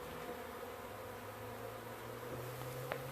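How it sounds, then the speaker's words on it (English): Honeybees buzzing inside a wooden shed after floor removal, a faint continuous drone with low hum, steady and quiet throughout. "there's bees still flying around a little bit"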